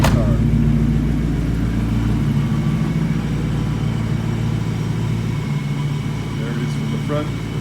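A supercharged 2004 Ford Mustang GT with a Vortech blower, a convertible, rumbles loudly up close in a steady, deep idle that barely shifts, with people talking over it.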